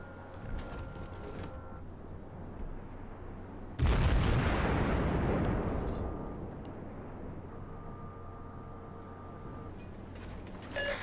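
A single heavy naval gun salvo booms out in World of Warships during a cruiser battle, a sudden loud blast with a rumbling tail that fades over a couple of seconds amid quiet ambient game noise and faint tones.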